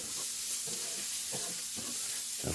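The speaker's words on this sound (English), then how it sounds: "We'll give that a stir around." Black pepper and paprika sizzling in a curry pan as they are stirred, a steady close hiss of frying with soft scraping stir strokes and no talking.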